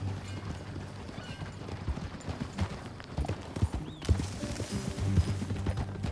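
Horse hooves clip-clop at a steady rhythm in Red Dead Redemption 2, a rider urging a mare along, with a few louder hoof strikes near the end over a low game ambience.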